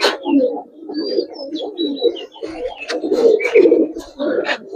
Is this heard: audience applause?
no